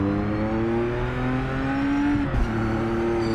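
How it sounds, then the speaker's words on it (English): A 6-litre six-cylinder race car engine in Project Motor Racing roars steadily at high revs, a sustained close, loud drone with a brief blip near the end and no voices. "6 litre belting out the power. 6 litre, 6-cylinder."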